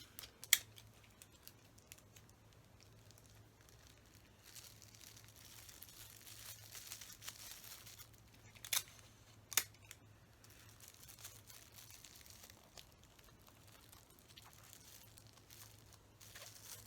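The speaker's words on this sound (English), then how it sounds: "I'm just going to tape it with scotch tape." Scotch tape pulled off the roll and wrapped around a part during a color-changing lightsaber build, heard as quiet, faint crinkling with a couple of sharp snaps partway through, alone in a hushed room.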